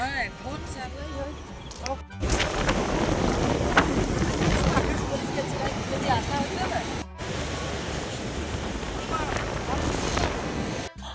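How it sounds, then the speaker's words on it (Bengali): Ocean waves roll onto a beach at Mandarmani with a loud, continuous roar of surf, heavy wind buffeting the microphone, and voices talking over it. "এই একটু কাছটাতে এলেই পুরো ঢেউর আওয়াজ আসছিল"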